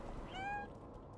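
A cat character in a video game gives a single clear meow, a short rising-falling tone heard alone over a quiet background.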